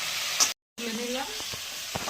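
Two dry red chillies hit hot oil for tempering, giving a soft crackling sizzle with a brief cut-out midway and a few light clicks after, while a voice speaks faintly over it.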